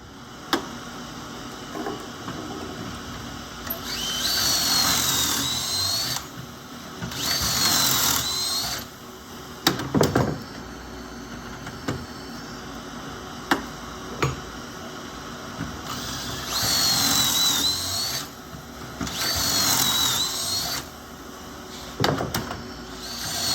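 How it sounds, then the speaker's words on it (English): Repeated bursts of a power drill boring pocket screw holes into wood, four main runs of a few seconds each with sharp clicks and pauses between, no talking. "I'm gonna put some screw pocket holes in here. I'm gonna drill 2 holes in each one."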